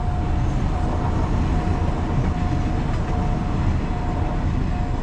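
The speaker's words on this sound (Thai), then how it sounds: "นี่คือรถไฟ นะครับบ้านผมเขาเรียกว่ารถไฟ" A short three-car train rolls past a level crossing just before Huai Rat station in Thailand. Its loud, continuous rumble and rattle stay close and steady throughout, with no talking.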